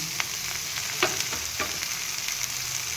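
Soybean chunks fry with garlic and onion for vegetable rice, giving a steady, loud close sizzle with a few sharp scrapes of stirring throughout.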